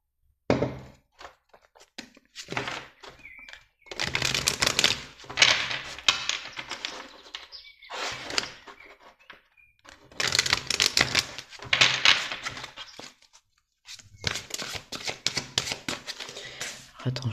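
Tarot cards handled and shuffled during a reading, crisp riffling and slapping bursts that come and go in several rounds with short pauses between them.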